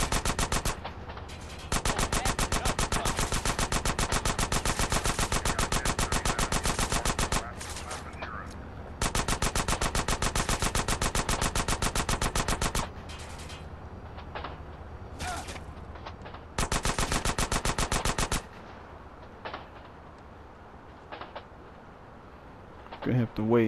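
Sustained automatic gunfire from a weak gun in GTA San Andreas, loud rapid bursts of several seconds each with short gaps between them, then quieter scattered shots at the end.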